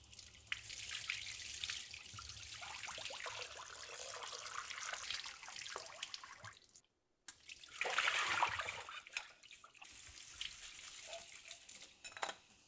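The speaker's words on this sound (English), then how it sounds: "Rinse it under running water and rub to remove the excess starch." Jasmine rice rinsed and rubbed under a running kitchen tap, a steady close splash of water with dripping and grainy rustling, briefly cut to silence midway before the flow resumes stronger.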